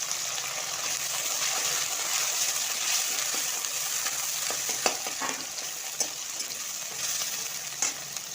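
Chopped onions and two dried red chillies frying in hot oil for a spice-free fish chorchori, a steady close sizzle with occasional stirring clicks and spatters.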